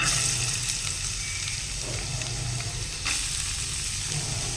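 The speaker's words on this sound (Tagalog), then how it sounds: "Ngayon, ginisa ko ng mantika." Onions sautéing in hot cooking oil give a steady, close sizzle with soft stirring scrapes, continuous and fairly loud, no talk.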